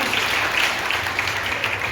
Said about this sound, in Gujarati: એટલા માટે જોરદાર તાળીઓ હોવી જોઈએ.